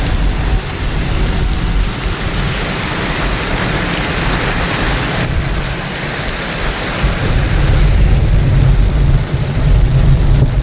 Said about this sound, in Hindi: ये देखिए जी बारिश किस कदर तेज हो गई है, तेज तूफानी बारिश